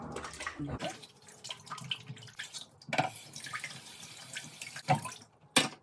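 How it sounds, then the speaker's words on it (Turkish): A robot vacuum's mop cloth washed under running tap water, the flow splashing intermittently into a sink with brief pauses and bursts, close and moderately quiet. "En son bezi yıkayalım."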